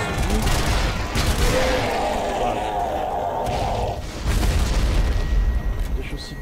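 Gunfire from the Zombie Army Trilogy shooter on PS4, a loud fusillade of repeated shots with a booming rumble that keeps going across the clip, briefly easing near the middle before surging again, with speech mixed in.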